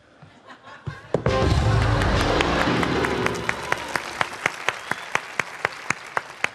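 A studio audience at a Mexican late-night talk show bursts into loud applause and cheering after a quiet start, then the crowd noise fades to a run of sharp, evenly spaced single claps near the microphone.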